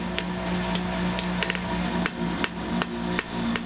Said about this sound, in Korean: 망치 소리도 이제는 제법 가볍고 경쾌하게 들립니다